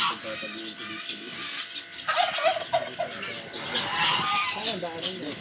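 Turkey gobbling loudly and repeatedly nearby, a rapid warbling call, with a person talking over it.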